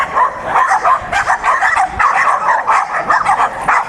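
A dog barks and yips rapidly and loudly in quick repeated bursts, close by, with excited whimpery yelps between barks and no clear talk.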